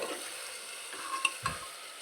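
Marinated mutton is stirred in a pot over a soft background sizzle, with a couple of sharp spoon knocks against the metal near the middle.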